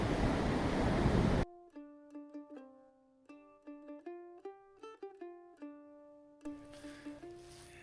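Wind gusts across an Appalachian Trail mountain top on a cold morning. A loud, rushing roar fills the opening stretch and returns at the end, with a slow plucked melody in between.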